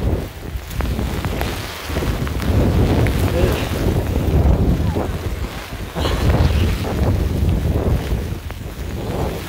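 Strong storm wind buffets a tent outdoors in gusts, with loud, close flapping and rushing noise that rises and falls over several seconds.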